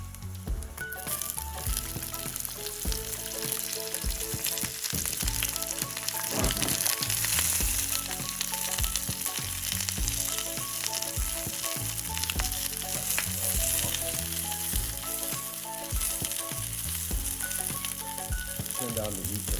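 Onions and crushed garlic sizzling in a hot pan for a lamb and pork kebab dish, a loud steady crackling fry with occasional stirring, continuous and close throughout.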